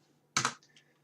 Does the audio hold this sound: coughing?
no